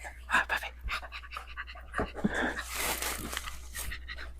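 A dog pants quickly and fairly close in an indoor kitchen fish room, short breathy huffs coming in uneven bursts over a low steady hum, with faint background voices.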